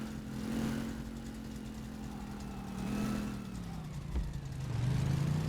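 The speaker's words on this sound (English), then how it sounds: "This little engine is kind of stout" A stout little engine runs steadily at moderate distance, its low drone shifting pitch slightly as it revs up and settles, with no talking over it.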